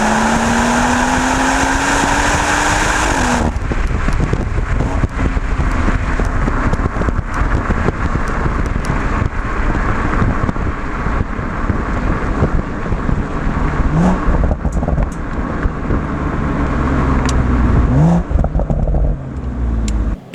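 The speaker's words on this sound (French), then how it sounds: "On va vous faire écouter un peu le bruit extérieur avec le réflexe qui est en train de filmer actuellement." A BMW M140i heard from outside, engine noise steady and loud across the whole stretch, with a brief rising rev at the start and dense road rumble underneath.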